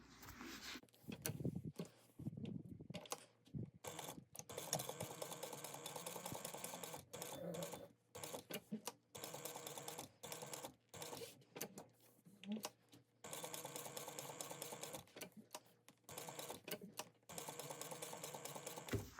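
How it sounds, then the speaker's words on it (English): Sewing machine stitching around fabric for a bag, running in repeated bursts of rapid mechanical whirring with short stops between, close and clear throughout. "we're just gonna sew this around"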